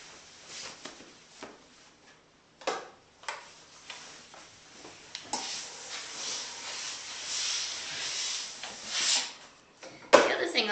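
Steam iron hissing in bursts while a fitted sheet is pressed, with soft ticks and intermittent puffs of steam, growing into a longer broad hiss near the end.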